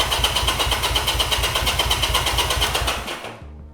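A Honda CB200 motorcycle fitted with aftermarket carburetors starts up and runs with a steady, close, pulsing engine rumble for about three seconds before cutting out abruptly.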